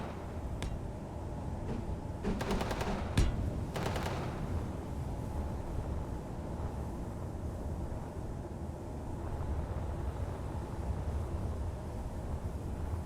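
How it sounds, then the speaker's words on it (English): Gunfire in the space video game Space Engineers, a few short rapid bursts early on, fairly faint, over a constant low engine rumble. "I hear your gunfire trying to speed me up."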